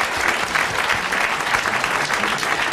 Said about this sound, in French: vous allez applaudir Madame Fontaine de Templeuve